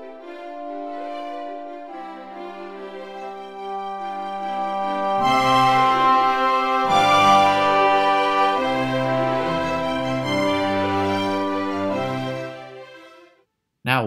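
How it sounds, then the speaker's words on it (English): An orchestral movement opening with horns and bassoons doubling each other swells from sustained chords into a fuller, louder texture, then thins out before cutting off near the end, with no talk. "Here I have the horns and bassoons doubling each other."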